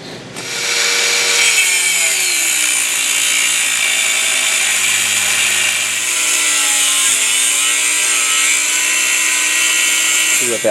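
A power saw grinds steematically through steel handle stock for a carpet seam weight, making angled cuts: a loud, steady, high-pitched metal-cutting whine that holds nearly unchanged for about ten seconds, with no voices over it.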